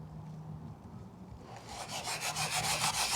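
A cloth wipes carburetor-cleaner-softened paint off an aircraft interior panel. Faint at first, the close, rhythmic rubbing strokes grow steadily louder and quicker over a few seconds.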